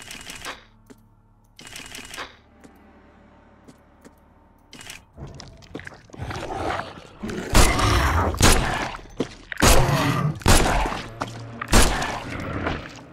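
Rapid bursts of sharp gunfire in the video game The Sinking City crackle in clusters, some isolated shots between, growing louder and denser toward the end.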